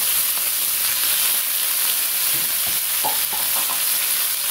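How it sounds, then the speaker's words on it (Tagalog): Meat sautéing in a pan for a squash and patola dish with misua, a loud continuous sizzle and hiss up close, broken by scraping stirs and a few light clinks. "So, ito ay ano natin, igisa natin."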